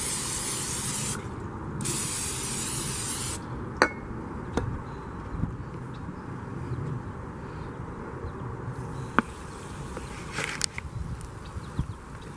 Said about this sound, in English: Spray it liberally.